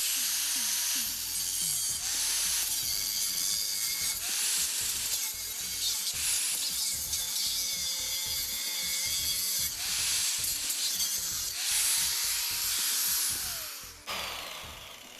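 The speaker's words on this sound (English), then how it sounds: "I'm going to make a cut with the angle grinder, just cut that off at the top and bottom." Angle grinder cutting through an aluminum window center bar, a loud continuous high whine with grinding bursts that rise and fall over about fifteen seconds, close and steady.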